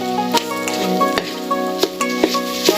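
Scrambled eggs cooking in a pan over low heat without oil, a faint crackling sizzle punctuated by several sharp clicks and scrapes of a utensil stirring.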